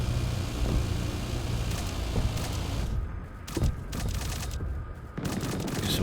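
AC130 minigun fire in the Drone Sector sci-fi game arrives as a steady, dense rumbling roar of rapid rounds. Softer gaps and distant booms break it up under continuous engine drone.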